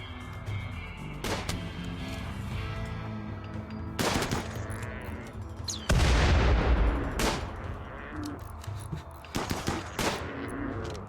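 A rocket launcher fires in a video game, aimed at goofy elemental enemies. Several heavy, booming blasts burst out loud and close, one after another, with a rumbling tail after each.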